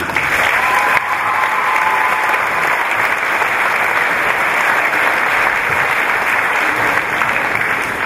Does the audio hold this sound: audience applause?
yes